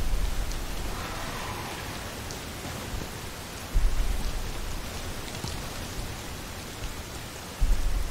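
Steady rain pours in the video game Rain, a dense continuous hiss of falling water with soft low rumbles swelling now and then, heard alone without talk.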